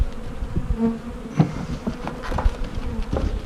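Honeybees buzz in a dense, close swarm while packages are installed into a hive, with a few soft knocks and thuds from the equipment mixed in.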